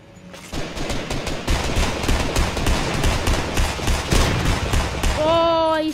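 Sustained rapid gunfire in the video game Fortnite, a dense stream of loud, closely spaced shots running for several seconds, with a short rising tonal game effect at the end.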